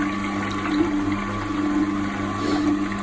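Juice streams steadily out of a Torus T5500 juicer under a constant motor hum, a continuous close-up liquid flow with no breaks and no talking.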